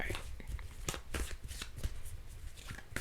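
Tarot cards being shuffled up close, a quick series of papery riffles and sharp slaps in an uneven rhythm, with no voices over it.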